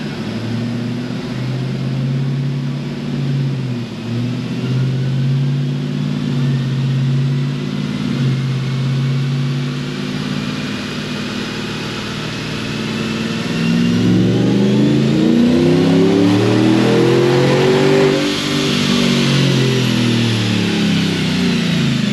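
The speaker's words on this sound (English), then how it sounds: "So I'm gonna go 5th gear." A Callaway 560 hp Tahoe running on a dyno in fifth gear, its engine droning steadily and then swelling into a loud, rising pull as it accelerates, with tire and roller whine underneath.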